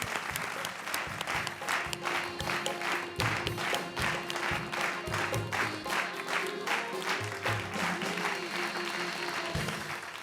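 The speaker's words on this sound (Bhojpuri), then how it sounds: "जोरदार तालियां।" Sustained audience applause on a Bhojpuri TV comedy show, steady dense clapping from a studio crowd lasting throughout at even loudness.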